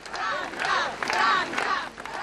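A crowd gathered outside for a funeral procession in Italy cheers and shouts in loud swelling waves, voices rising together in rhythmic bursts with no single speaker standing out.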